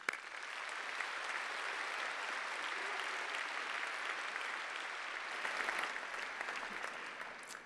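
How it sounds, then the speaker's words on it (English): Audience applause at a university postgraduate graduation ceremony: steady, dense clapping from a large hall crowd, sustained evenly throughout with no speech over it. "Give them a round of applause."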